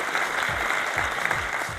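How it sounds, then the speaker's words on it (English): Audience applause at a company gathering, a steady wash of many hands clapping throughout, fairly loud and continuous with no voices standing out. "Let's give that a round of applause, huh?"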